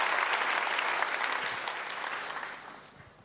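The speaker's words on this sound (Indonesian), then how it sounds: "berikan tepuk tangannya buat Tuhan Yesus" A church congregation applauds at a Pentecost sermon, a dense wash of clapping that holds steady and then slowly thins and fades toward the end.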